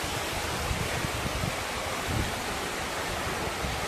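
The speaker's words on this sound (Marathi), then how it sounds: "छोटा धबधबा आहे, छोटा पाण्याचा झरा आहे" A small waterfall by the Daryayi Mata temple rushes in a dense, steady roar that stays even and close throughout, with no other sound.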